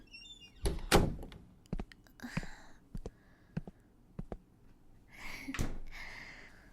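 A door is shut in a quiet indoor room, one firm thunk standing out among a few softer knocks and rustles, near and fairly close, with no talking.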